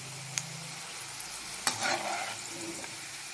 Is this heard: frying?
yes